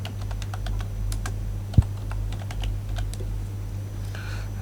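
Rapid keyboard typing while a username is entered into a registration form, a run of close, light key clicks with one sharper tap partway through and a low steady hum underneath.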